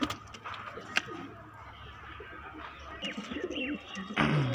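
Madrasi pigeons cooing and fluttering nearby, giving soft low coos and a few chirps over a rustling, slightly noisy background, with a brief louder flap near the end.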